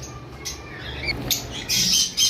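Small cage birds at a bird farm give short squawks and chirps, several close calls rising in bursts over a low background hum, the last few louder than the first.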